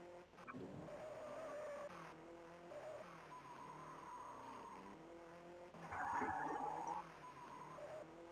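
A car races in an arcade rally game, its engine droning and shifting pitch. Tires squeal and skid in bursts, loudest near the end, with the engine rising and falling steadily throughout.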